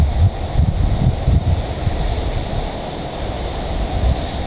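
Light wind blowing across the mic on a black sand beach, a steady low rumble with gusty bumps throughout, no voices.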